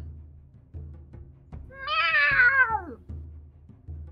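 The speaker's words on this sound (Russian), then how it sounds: "эти мяуканья действуют мне на нервы" A cat gives one drawn-out, wavering meow over a quiet, rhythmic low thumping background, close and clear.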